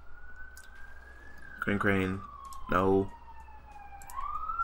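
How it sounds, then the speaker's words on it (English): Wailing emergency vehicle sirens outside at early morning, one rising and falling tone sustained throughout at moderate distance, while people talk in short bursts over it. "Why are there so many, like, ambulances and stuff?"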